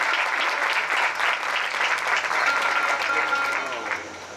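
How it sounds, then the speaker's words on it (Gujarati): An audience at a Shrimad Bhagavat religious discourse gathering applauds in welcome, with steady, dense clapping filling the hall throughout and tapering slightly at the end. "આપણે ભાવથી તેઓ શ્રીનું તાળી વગાડી તેને સ્વાગત કરીશું."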